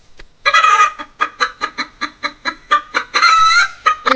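A rooster sounds close and loud in a rapid string of sharp, evenly spaced clucks, and two longer crowing calls open and close the sequence.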